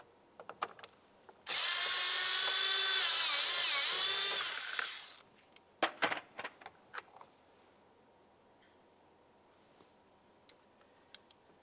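A power tool whirs for a few seconds, removing a T27 star screw from the door of a 2003-2011 Mercury Grand Marquis, followed by a few sharp clicks and clatters, then near silence.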